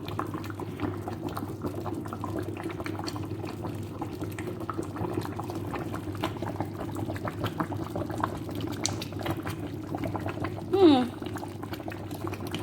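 Cameroonian plantain porridge boils steadily in a pot, a continuous close bubbling and simmering hiss with one brief higher squeak near the end.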